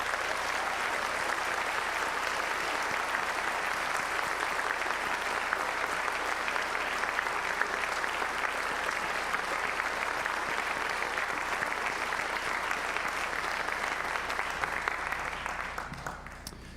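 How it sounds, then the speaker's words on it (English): Sustained applause from a concert audience honouring graduating seniors of a school symphonic band, a dense, even clatter of clapping hands lasting many seconds before fading slightly at the end. "How about a round of applause for these seniors?"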